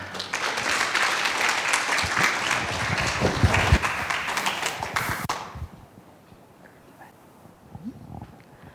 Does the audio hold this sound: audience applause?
yes